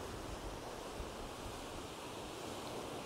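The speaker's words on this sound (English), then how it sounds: "it's a bit of a biting wind coming across the sea." Wind gusts across the sea at Lamlash Bay on the Isle of Arran, with waves washing on the shore, forming a steady broad roar of moderate loudness without voices.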